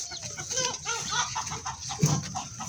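A naked neck hen clucks on a poultry farm, soft repeated clucks close by over a steady background of other fowl and farmyard hum.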